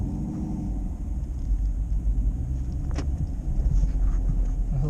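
A Chevrolet Camaro SS drives at night, its engine and road noise a steady low rumble from inside the car, with no speech.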